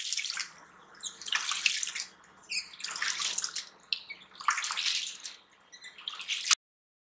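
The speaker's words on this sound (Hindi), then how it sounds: "अब इसमें हमने फ्रेश पानी डाल दिया है। अब इसे हम फिर से रब करेंगे।" Fresh water splashes and swishes in bursts as urad dal is rubbed and rinsed by hand in a bowl, close and fairly soft, with repeated sloshing pulses before stopping abruptly.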